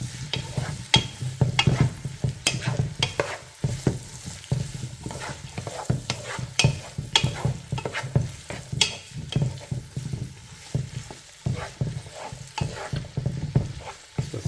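Vegetables sautéing in a pot for corn bacon chowder, a steady sizzle under repeated scraping and stirring strokes, close and fairly loud throughout with no talking.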